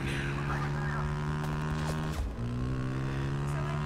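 Motorcycle engine while riding in Homefront: The Revolution, a loud continuous droning hum that shifts pitch partway through as the ride changes speed, steady and close throughout.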